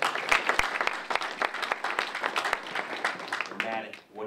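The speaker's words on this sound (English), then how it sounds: "So let's give a round of applause for you." A breakfast-event audience gives a round of applause, with dense clapping and sharp individual claps throughout, fading out as a speaker's voice begins near the end.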